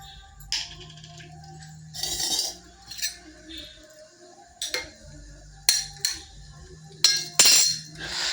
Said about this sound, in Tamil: நம்ம கடுகும் போட்டாச்சு